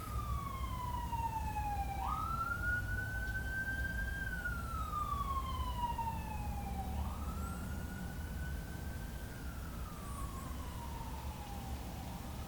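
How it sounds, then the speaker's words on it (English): A wailing emergency vehicle siren sweeps slowly up and down in long steady cycles as it passes, loud and continuous over low traffic rumble, with no talking. "hold for siren."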